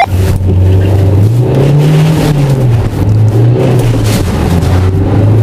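Four-wheel-drive vehicles, among them a Lada Niva, Dacia Duster, Mercedes G and Toyota Land Cruiser, accelerating hard from a race start: a loud, close engine roar rising and falling in pitch through the gears.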